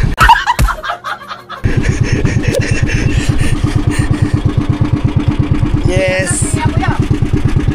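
Voices come first, then a repaired boat engine on a fishing outing kicks in and idles loudly with a steady, rapid chugging rhythm close by.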